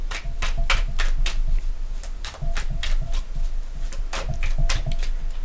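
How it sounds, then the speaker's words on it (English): Tarot cards are shuffled by hand in quick bursts of crisp riffling and slapping, close and loud, repeating irregularly with brief pauses, no speech. "Okay, Aquarius, let's shuffle."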